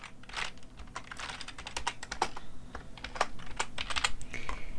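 Quick, uneven bursts of keystrokes clatter on a computer keyboard up close, typing continuously with brief pauses and no voices.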